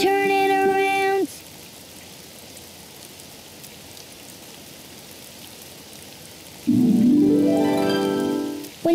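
Steady rain falls outside in a children's cartoon, a soft continuous hiss that sits between brief musical tones at the start and end.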